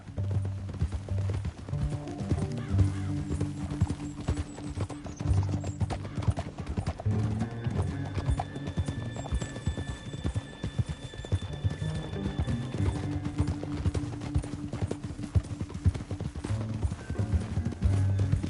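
Steady clip-clop of horse hooves at a gallop in the video game Red Dead, with an occasional whinny over a busy, continuous background.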